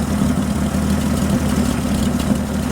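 A 1962 Ford F-350 farm truck engine idles steadily and fairly quietly through its muffler, a low, even rumble with no change in pace and no talk over it.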